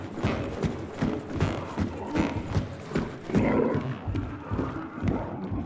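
A horse in the video game Hunt: Showdown clops and snorts with a rough whinny, a steady rhythm of hoofbeats and breathy calls at moderate distance, loud throughout.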